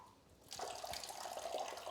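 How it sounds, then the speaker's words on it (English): Water splashing onto a face during wudu ablution, a sudden wet splash then continued running, dripping water close by, fairly soft, with no talking. "So I've taken water and put it on my face."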